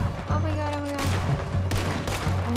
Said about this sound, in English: Oh my god, I don't know where I'm shooting.